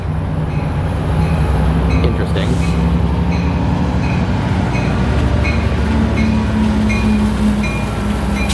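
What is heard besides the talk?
train arriving at station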